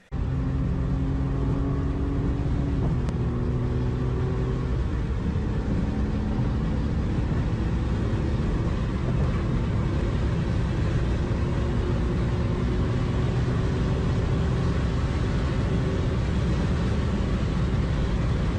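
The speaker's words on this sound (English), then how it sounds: "All he does is drive his mom's BMW fast and recklessly." A BMW driven fast and recklessly, a steady loud engine roar with rising revs and a low rumble running continuously for the whole stretch, no voices.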